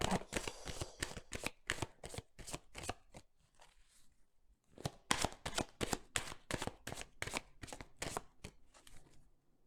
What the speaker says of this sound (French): nous allons prendre, pour compléter, quelques cartes du Petit Lenormand pour avoir plus d'infos concernant cette bonne nouvelle